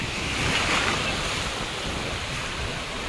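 Continuous roar of sea surf washing onto the shore, with wind buffeting the microphone and no voices.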